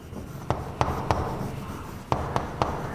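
Chalk or marker writing on a classroom board, a series of sharp taps and short scratchy strokes in small bursts over a steady room hum, with no talking.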